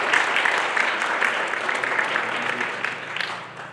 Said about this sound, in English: So if we could just give a thorough round of applause for them.